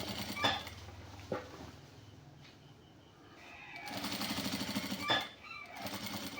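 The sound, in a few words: sewing machine stitching a shirt side pocket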